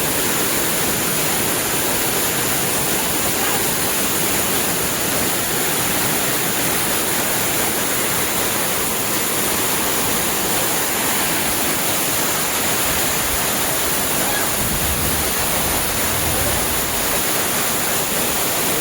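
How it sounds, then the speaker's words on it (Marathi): A waterfall crashing down from a height, a loud, steady, unbroken roar of falling water close by with no voices. "हा धबधबा होता खाली पडतो इथून"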